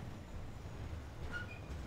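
A train departing in the video game Farming Simulator 15, a steady low rumble of rolling wagons with a brief faint wheel squeal partway through, fairly quiet and alone.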